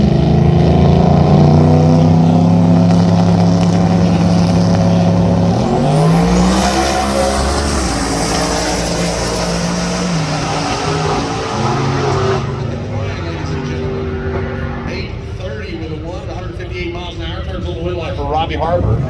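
Ford Mustang drag racing at US131 Motorsports Park during a Streetcar Takeover event, loud engine roaring and rising in pitch as it accelerates down the strip, then fading, with commentators talking over it throughout.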